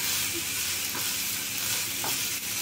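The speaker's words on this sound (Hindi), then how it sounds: "अब हम इसे थोड़ा सा चलाएंगे।" Carrots and beans sizzle steadily in a frying pan while being stirred, a continuous hiss with a couple of soft scraping strokes, close and fairly loud, no voices.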